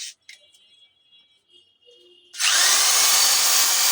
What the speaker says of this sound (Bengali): এটা হলো দশ মিলি capacity Masaki brand drill machine